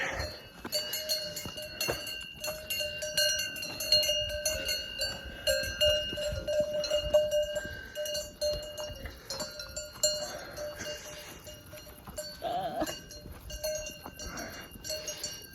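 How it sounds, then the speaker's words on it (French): Brown Alpine cows on a mountain pasture with cowbells clanking and ringing irregularly, some near and some farther off, at a moderate level. "Après les vaches marrons des Alpes."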